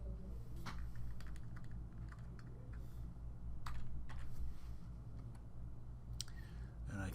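Steady typing on a computer keyboard, quick light key clicks in an irregular patter, faint and close beneath a low constant hum.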